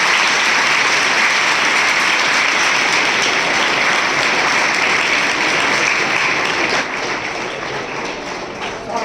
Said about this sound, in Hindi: मैं चाहूंगा कि इनके सम्मान में आप तालियां बजाकर इनका स्वागत करें